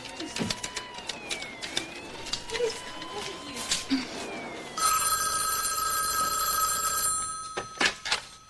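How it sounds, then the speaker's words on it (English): Telephone bell ringing loudly in a steady trill for a few seconds, following quieter background sounds and with brief noises after it stops. "Thank God you answered the phone"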